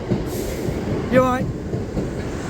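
Train passing through the Liss station level crossing, a steady rumbling roar close by with a brief squeal partway through, while a person speaks briefly.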